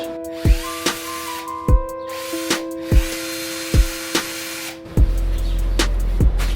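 A power tool shaves out holes drilled in a car's rear door panel during a Honda FL5 install, sounding in repeated short bursts with sharp impacts and tonal whine, close and loud, ending in a steady rumble.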